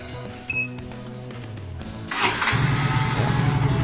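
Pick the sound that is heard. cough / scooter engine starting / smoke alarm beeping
scooter engine starting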